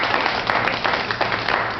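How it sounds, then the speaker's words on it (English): Audience applause after a motivational talk, a dense, steady wash of many hands clapping at an even level for the whole stretch with no voices on top. "Now we can applaud."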